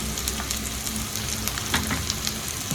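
Onions and ginger garlic paste frying in oil in a pan, a dense, continuous close sizzle with faint crackles throughout and nobody talking.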